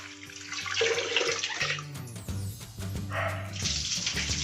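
Tap water runs and splashes while a stovetop is being washed, in uneven gushes with clattering and tonal clinks of kitchen items, fairly close and moderately loud.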